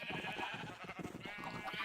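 Sheep in the Minecraft video game bleat in a short, fairly quiet burst of repeated wavering calls.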